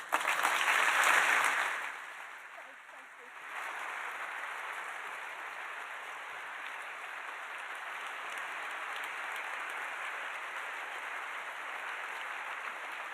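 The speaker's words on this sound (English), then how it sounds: "I don't think you should clap till you hear my story and then decide if it was worth clapping for." A lecture hall audience applauds after a physicist is introduced for an annual lecture, a sustained wash of clapping that starts louder, dips briefly, then continues steadily at a distance.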